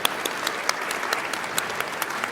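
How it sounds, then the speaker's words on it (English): Steady clapping from a conference audience at a climate policy event, with crisp individual claps standing out; moderately loud and continuous through the short stretch, with no talking over it. "give him a round of applause."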